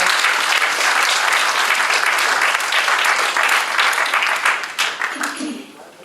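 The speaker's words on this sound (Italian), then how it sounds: "Un applauso, grazie." An audience applauds steadily for several seconds at a Christmas concert of music and poetry in Italy, a dense wash of clapping that thins and fades out toward the end.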